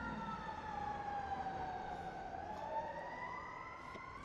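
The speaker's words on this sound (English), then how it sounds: "you can hear the the sirens of downtown LA." Wailing emergency sirens rise and fall steadily across downtown Los Angeles, distant but clear over a constant traffic hum, with no one talking.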